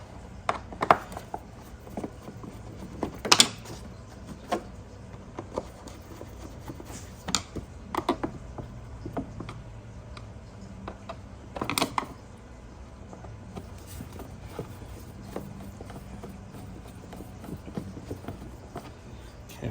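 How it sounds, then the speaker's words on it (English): T25 screws are backed out of the air filter housing on a 2011 Volvo XC70 3.2L, giving faint scattered ratcheting clicks and small plastic knocks under a quiet background. "Next, we'll remove the T25 screws located around the air filter housing box."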